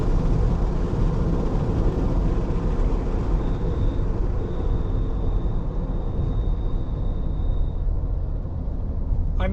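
Brakes of a Sprinter van squeal on a race track as it slows hard from speed: a thin, steady high-pitched whine of a few seconds rides over loud, broadband road and engine roar inside the cabin.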